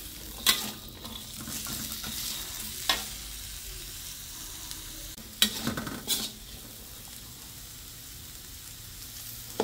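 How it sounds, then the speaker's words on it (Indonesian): Potato pieces sauté in a hot pan with a steady soft sizzle. Occasional scraping stirs and spatula clacks against the pan cut through the frying, and no one talks. "Tumis kentang sehingga lembut."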